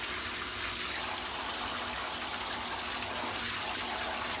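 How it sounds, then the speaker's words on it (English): A shower spraying water onto a pet macaw makes a steady, loud, broadband hiss and patter that continues unbroken for the whole stretch, with no talking. "He likes this shower"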